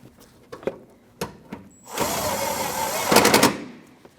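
An 8mm fender bolt on a 2014-2023 Jeep Cherokee is tightened with a power tool, a sustained whirring burst after a few sharp clicks and taps, ending in a louder rattling flurry close by.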